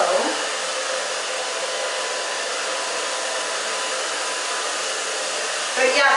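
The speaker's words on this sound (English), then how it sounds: "that's why I say low, low heat. and low on the blow dryer, obviously." Blow dryer running steadily on low while drying curly hair, a constant airy whir throughout with a slight change at the very end.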